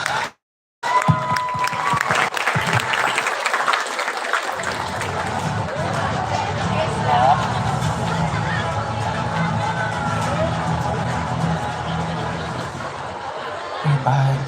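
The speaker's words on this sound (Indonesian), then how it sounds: "Sekali lagi kita beri aplaus untuk para pemenang" Applause and cheering from a crowd at a school event for the winners of a hadroh competition, with steady clapping sustained for over ten seconds and chatter and laughter mixed in.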